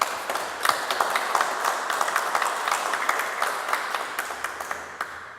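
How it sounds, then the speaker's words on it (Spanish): An audience applauds an engineer speaking at an evening lecture on sustainable development in the Amazon, steady clapping heard somewhat distant and moderately quiet, tapering slightly toward the end. "Aplausos para nuestro expositor, por favor."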